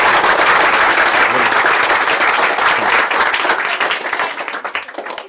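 An audience at a large indoor question-and-answer talk bursts into dense, loud applause that holds steady and then tapers off toward the end.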